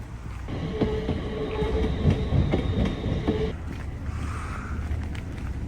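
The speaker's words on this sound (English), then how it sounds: "You can get the train here too." A train runs near Gourock station by the Calmac ferry terminal, with a sustained rumble and steady wheel clicks and squeals that fade out after a few seconds, leaving a quieter harbour ambience.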